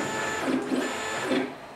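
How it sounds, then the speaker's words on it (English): A HyperCube Evolution 3D printer running on a 24 V RAMPS setup moves its axes in short whirring stepper-motor sweeps, with two or three rising and falling pitch glides over a steady background hum. The sound is close, fairly quiet, and heard alone without speech. "printer moves, it's all good"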